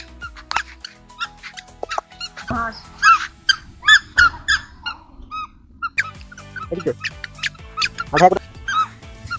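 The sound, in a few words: ducks honking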